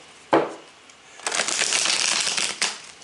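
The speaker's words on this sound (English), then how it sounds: "So we'll give it another quick shuffle, shuffle, shuffle." Tarot cards shuffled by hand: one sharp riffle snap near the start, then a steady stretch of dense papery shuffling that ends with a final flick, close and clear with no talking.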